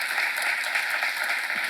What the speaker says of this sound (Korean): 여러분 가정에 구원받을 거면 시간 박수 주세요